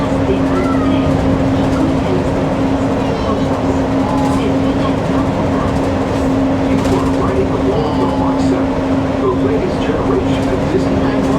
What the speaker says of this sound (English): Disneyland Monorail.